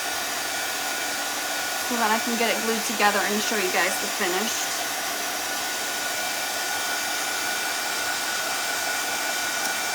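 Hair dryer blowing steadily to dry paint on a craft piece, a constant whooshing motor hum under a person talking briefly, near and even throughout.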